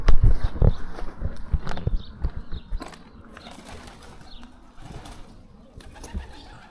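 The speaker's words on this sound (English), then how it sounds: "Pigeons got a fair bit of say around the place here." Pigeons coo and flutter inside an abandoned country hall at Alawoona, with a burst of close wing clatter and scuffing at first, then softer, sparser bird sounds against a hollow, quiet room.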